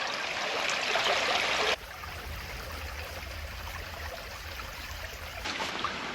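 A small, very shallow stream trickles steadily nearby, a soft continuous flow of water at an eel-fishing spot with no talk over it.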